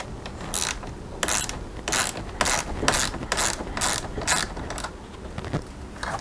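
Ratchet clicking rapidly while tightening a tail light fastener on a 2016 Dodge Dart SE, a steady run of sharp close clicks in short bursts with no talk.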